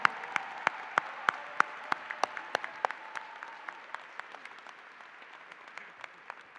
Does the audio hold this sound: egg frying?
no